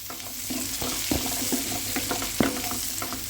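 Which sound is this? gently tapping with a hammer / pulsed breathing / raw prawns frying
raw prawns frying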